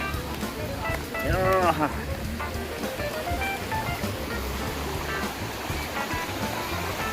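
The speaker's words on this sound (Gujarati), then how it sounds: "તો ઠંડુ ઠંડુ પાણી આવે છે" Cold water rushes and gurgles continuously close by at Bhavnath Mahadev, Junagadh, a steady broadband wash, with a brief voice rising over it near the start.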